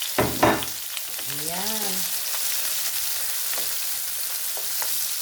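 Garlic, onion with chili and tomato sautéing in a pan, a steady broadband sizzle running throughout, with a brief spoken word near the start.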